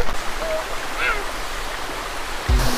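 A river waterfall at a riverside campsite gives a steady, loud rush of flowing water, with a few faint high chirps and a brief thump near the end.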